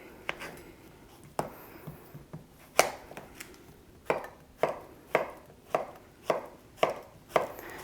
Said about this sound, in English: So I'm gonna go ahead and chop this into little pieces here that I'm gonna put into the machine.